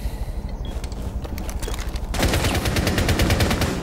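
Rapid automatic gunfire in Rainbow Six Siege, sharp repeated shots punching through a wall, lighter bursts at first and then a loud, dense stream of fire that continues to the end, with no talk.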